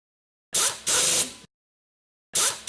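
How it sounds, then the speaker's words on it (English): Two bursts from a power tool driving fan clutch air chamber screws with a T30 Torx bit during a Kit Masters fan clutch rebuild, each a close, loud whirring run separated by silence. "Then install the air chamber screws using a T30 Torx bit."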